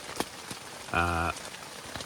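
Rain patters on a tent along the Appalachian Trail, with scattered close drop taps over a soft steady hiss. A short tonal hum or beep cuts in briefly partway through.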